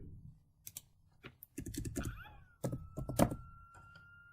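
Computer mouse clicks while applying settings in a crafting design program, several short sharp taps scattered among faint keyboard-like clatter at close range, with no talking.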